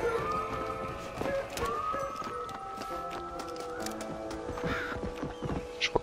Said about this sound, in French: Je crois qu'il y a un cheval juste à côté, mais que je le vois pas.